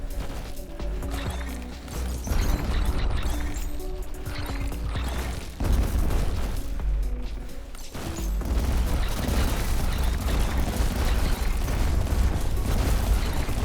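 Dense, continuous explosions from the video game R.I.C.E. pound away, overlapping booms and bursts of gunfire-like pops forming a loud, relentless barrage with a few sharp peaks.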